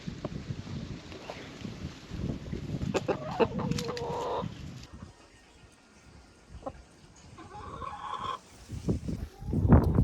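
Chickens in a backyard coop cluck and call in short, irregular bursts, fairly close and moderately loud, with quieter stretches in between.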